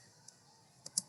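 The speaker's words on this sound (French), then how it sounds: "j'appuie sur la touche tabulation de mon clavier" A computer keyboard's tab key tapped a few times, short faint clicks close by in a quiet room, the last one a bit louder.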